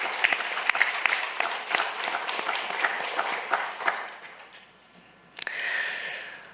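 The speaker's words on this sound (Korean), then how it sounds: "하나님께 영광의 박수 드리겠습니다" A church congregation claps with a crisp patter of many hands that swells, dips and then picks up again briefly near the end.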